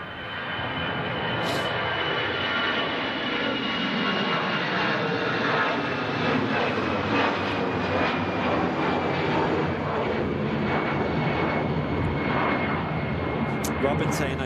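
Brussels Airlines Airbus A320 jet airliner at Manchester Airport, a steady broad engine roar filling the whole span, continuous and fairly distant, with people chatting over it.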